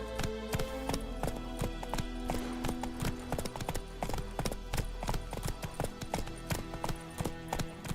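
Horse hooves clip-clop in a quick, even galloping rhythm in The Witcher 3: Wild Hunt, loud and close over a low steady game background.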